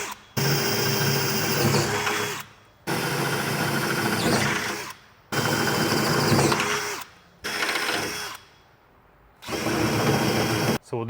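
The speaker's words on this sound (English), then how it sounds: "When you drill the final size hole, you may have to clearance it out just a little bit with the drill bit" Power drill boring holes for tube steps on a 2007-or-later Mercedes Sprinter van, stepping through bit sizes up to 17/32 inch; four sustained loud whirring bursts of grinding metal cutting, separated by brief pauses.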